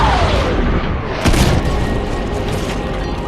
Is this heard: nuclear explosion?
yes